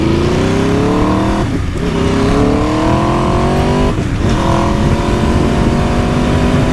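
An Aprilia RSV4 Factory motorcycle pulls away loudly, its engine note rising through the gears in two long climbing sweeps, each broken by a brief dip at the shift.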